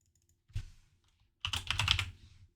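Computer keyboard being typed on, close and clear: a short single tap, a pause, then a quick burst of several rapid keystrokes.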